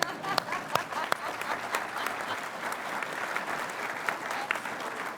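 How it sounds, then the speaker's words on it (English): Audience applause at a joint House and Senate veterans' affairs committee hearing, a steady dense wash of clapping from many hands filling the room, with a few sharper individual claps standing out and faint voices underneath. "I think you can go ahead, clap it"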